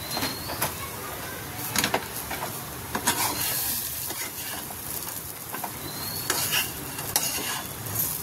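Salt being stirred into wheat vermicelli upma in a pan, with repeated scraping and tapping spoon strokes at an uneven rhythm over a low, continuous sizzle.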